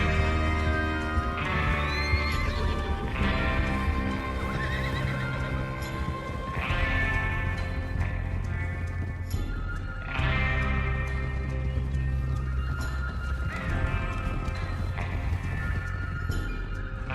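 Horses gallop and whinny repeatedly in the Red Dead Redemption 2 video game, with loud neighs recurring over a steady rumble of hooves and music-like tonal layers.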